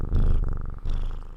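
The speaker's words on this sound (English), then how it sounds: "Can I hear you purring?" A pet cat purring up close, a steady rumbling loop with two breath cycles in little over a second, loud and alone.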